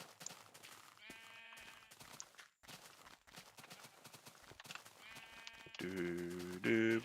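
Sheep bleating in Minecraft, repeated bleats over hoof clip-clop, footsteps and other busy game sounds, growing louder toward the end.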